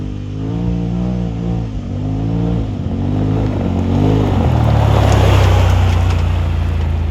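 A 2022 Polaris RZR Turbo R side-by-side engine revs during belt break-in, surging and easing in a few waves before holding a louder, steady high drone, heard up close with no talking.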